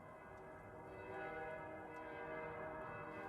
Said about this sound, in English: that is the end of day bell